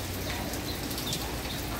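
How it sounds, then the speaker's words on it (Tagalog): Heavy rain falls steadily outside in Taiwan, a dense, even hiss of drops that fills the short moment without pause and with no voices over it. "ang lakas ng ulan guys"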